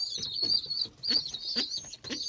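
Hungry Malatya tumbler pigeon chicks give high, thin begging calls in four repeated bursts, close and fairly loud, with faint rustling between them.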